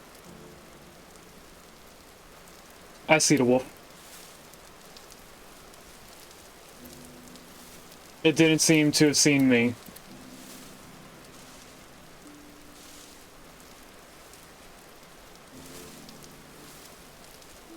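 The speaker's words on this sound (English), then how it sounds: "I'm not too happy with how often it rains here." Rain falls in a video game as a constant soft hiss through the whole stretch, with someone speaking briefly twice over it.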